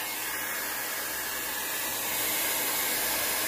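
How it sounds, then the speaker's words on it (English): Hair dryer blowing steadily on an alcohol ink painting, a constant close, loud broadband rush that runs through the whole stretch with slight shifts as the dryer is moved around. "So I'm going to take my dryer."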